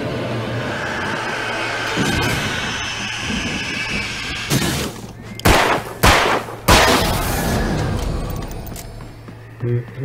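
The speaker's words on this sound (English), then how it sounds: "let's use the pistol, though, because I have a lot of bullets on that one" Pistol shots ring out in the video game Alan Wake, a few sharp loud cracks in quick succession over a dark ambient game backdrop, with a faint voice talking.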